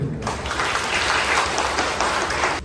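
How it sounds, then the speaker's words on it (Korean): Wedding guests break into applause right after the vows, a full, loud burst of clapping that starts suddenly and stays dense and even throughout. "큰 박수 부탁드립니다."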